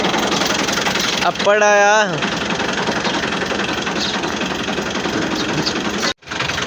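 A tractor engine runs with a steady mechanical chug throughout, while a voice briefly speaks over it and a short rising whine cuts in near the start.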